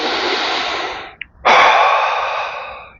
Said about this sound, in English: So I want you to take a breath with me real quick.